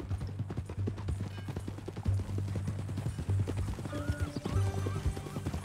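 Horse hooves clop in a quick, steady rhythm in the video game Red Dead Redemption 2, close and distinct, with a brief whinny and faint background tones partway through.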